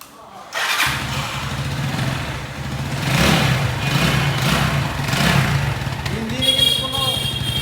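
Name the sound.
Runner Bolt 165cc motorcycle engine started with key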